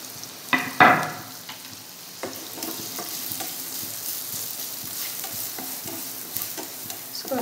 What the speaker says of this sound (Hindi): ये हमारा सबसे पहले प्याज को अच्छे से भूनना है इसमें